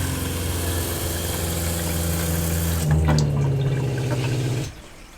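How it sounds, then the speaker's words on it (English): RV water pump priming during de-winterization with a tap running, a steady close mechanical hum over rushing water that shifts pitch and surges around the midpoint, then cuts off abruptly near the end. "Can you hear it kind of throat down? Just kind of finding its prime"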